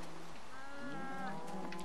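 A cow moos in the video game Minecraft: one drawn-out, wavering low call that rises and bends in pitch, fairly close, with no talk.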